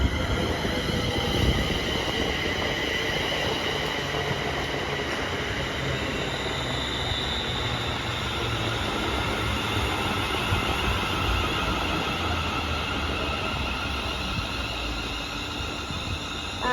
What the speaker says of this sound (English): here comes the 1140 Scotrail service to Glasgow, not Glasgow, Prestwick Town